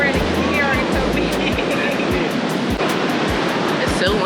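Strong wind buffets across a beach with steady roaring surf beneath it, loud and constant, with low thumping gusts hitting the microphone throughout.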